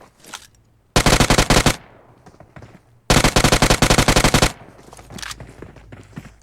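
Gunfire in the BGMI mobile battle royale game, two loud rapid bursts of automatic shots, each lasting about a second, with quieter game noise between and after.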